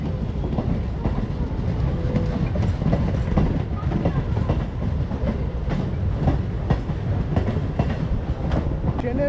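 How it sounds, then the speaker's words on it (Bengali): A train rolls past at Naihati Junction station, a steady loud rumble with rhythmic clickety-clack of wheels on rail joints filling the whole stretch, near and continuous with no break. "পেছনে এই ট্রেনটা যাচ্ছে, দেখতে পাচ্ছ, মারাত্মক লাগছে দেখতে ভিউটা।"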